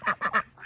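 Farm ducks honking, three quick nasal calls in a row followed by a softer fourth, close by and loud, with no voices over them.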